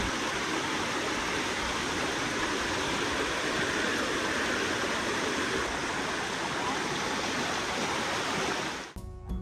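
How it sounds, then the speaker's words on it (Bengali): A mountain stream at Khoiyachora waterfall in Sitakunda rushes steadily, a loud, continuous watery roar close by, ending abruptly in a brief disturbance. "যত ভিতরের দিকে যাচ্ছি ততই যেন ঝিরিপথের পানির শব্দ বেড়েই চলেছে"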